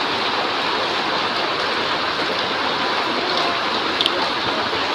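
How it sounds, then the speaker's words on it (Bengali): Heavy rain pours down steadily in a dense, continuous broadband hiss, close and loud throughout with no pauses, strong enough to drown out other sounds. "দেখো কত জোরে বৃষ্টি হচ্ছে।"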